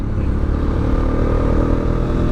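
A Bajaj Dominar 400 motorcycle (2024 model) rides in third gear, staying below 6000 rpm. Its engine drones loud and close, a steady continuous rumble with no noticeable revving.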